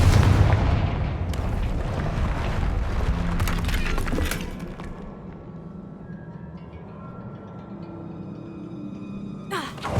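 Blasting spell explosions in the video game Hogwarts Legacy, a run of loud booms and crackling blasts over about four seconds that then fade into a quieter game ambience with a faint tone and a final sharp burst.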